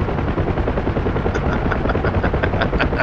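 Simulated UH-1H Huey helicopter in DCS World, its steady loud rotor thump and turbine whine filling the whole stretch without pause.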